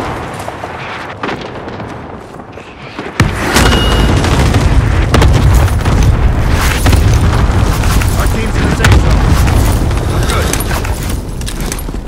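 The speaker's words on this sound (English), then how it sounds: "Allied cluster strike arriving." An allied cluster strike in a military video game hits after quiet background noise: a sudden heavy boom, then sustained, loud rumbling explosions roll on for many seconds.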